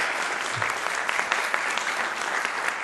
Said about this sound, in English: We want to give you a round of applause as well.